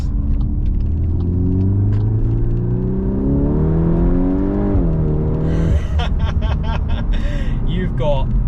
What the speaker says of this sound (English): it's so hard from camera to show what an exhaust sounds like